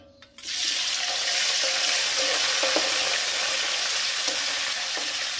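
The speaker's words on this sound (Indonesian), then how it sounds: "Pertama kita tumis dulu untuk tahunya, untuk tumis setengah matang aja." Tofu stir-frying in a pan until half-cooked, a loud steady sizzle that starts abruptly after a brief quiet moment, with occasional soft scrapes and stirring clicks underneath.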